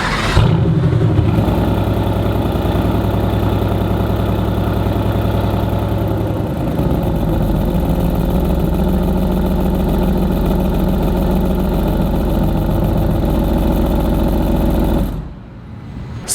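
A Mercedes-AMG GT R Roadster, one of 750, in Sport Plus mode, with a loud, close, sustained exhaust drone and a deep burbling idle rumble that holds steady before cutting off near the end.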